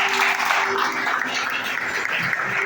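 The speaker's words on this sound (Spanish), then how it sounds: "Denle un fuerte aplauso al Señor." An evangelical church congregation gives a short burst of steady, dense applause during a service, heard briefly and evenly.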